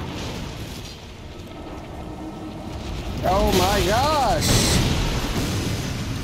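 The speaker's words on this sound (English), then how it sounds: "I didn't know it had an explosion effect!" A deep, rumbling explosion effect bursts out mid-fight in Elden Ring's Caria Manor, swelling into a loud, sustained roar that lingers to the end, with a player's startled exclamation over it.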